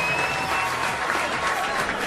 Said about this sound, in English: Give them all a big cheer as they make away.